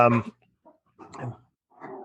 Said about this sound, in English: my dog's just, we live out here in the country, and they think that a squirrel is in their territory